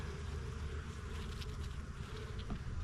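Honey bees buzzing steadily at a young nuc hive, a dense continuous drone with individual bees passing close to the microphone, no talking.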